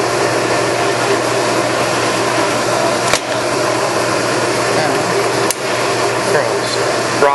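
A Leblond Regal 19.5 x 60 inch tool room lathe runs with the half nut engaged, feeding longitudinally: a loud, steady mechanical hum with a couple of brief clicks, under a man's speech.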